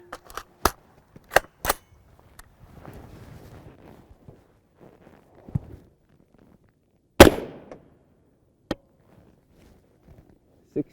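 Several sharp rifle shots at a Hesco M210 SRT armor plate on an outdoor range: three quick cracks, then a pause of quiet shuffling and scattered thuds, then a loud single shot and a few fainter later reports.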